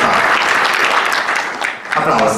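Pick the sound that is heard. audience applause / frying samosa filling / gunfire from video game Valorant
audience applause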